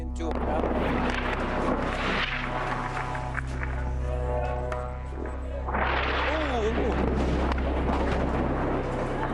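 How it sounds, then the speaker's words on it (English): An airstrike explodes a few buildings away in Rafah, Gaza, during a live news report. It brings a loud, deep blast and rumble that carries through the clip, with a later surge of debris and roar, while a voice talks through it. "An airstrike happens just a few buildings behind where he's standing."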